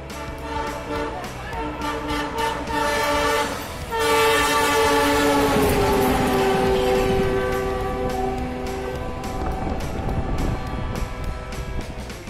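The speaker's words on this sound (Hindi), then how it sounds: "ट्रेन की रफ्तार इतनी तेज है कि महज 11 सेकंड में 341 मीटर लंबे सुरंग को पार कर जा रही है" High-speed train passing through a 341 m tunnel between stations in India's Malda division. Loud sustained horn tones give way to a roaring rush of wheels and air that swells and fades.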